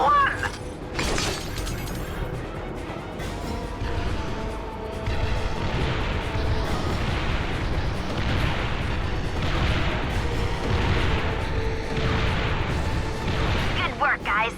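Heavy booming cannon blasts and crashing impacts in Ratchet & Clank: Tools of Destruction, repeated in bursts over game music and background noise.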